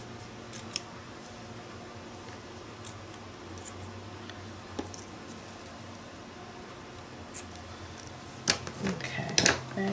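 Scissors cut a piece of canvas into smaller pieces for a craft project, with scattered faint snips through most of the span and a quicker, louder cluster of close cuts toward the end over a steady background hum.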